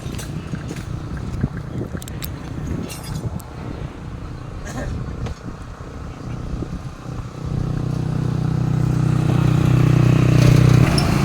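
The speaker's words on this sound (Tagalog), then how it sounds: "Bibilangin ko yung mga sasakyan guys na dumadaan dito." Cars and motorcycles pass along a roadside in Tagaytay, a steady stream of traffic with brief whooshes early on, then a louder, sustained engine rumble from a vehicle passing or idling close by toward the end, with wind noise throughout.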